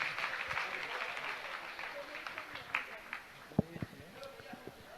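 Audience at a Jain religious discourse claps in a sustained patter of applause, moderately distant, with a few sharper nearby claps toward the end.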